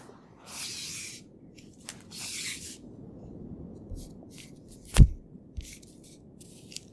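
A few soft hissing puffs of a perfume atomizer, close and quiet, followed by a sharper tap, alone without talk.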